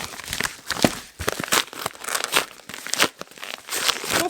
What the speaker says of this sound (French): là j'ai reçu 2 paquets. Je vais les ouvrir avec vous.